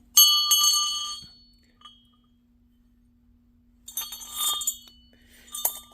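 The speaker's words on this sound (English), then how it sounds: "I just wanted to show off my bell." A hand bell rung to call for food gives two bursts of bright, metallic ringing, the first about a second long, then a pause before a longer second peal, clear and close with no talking.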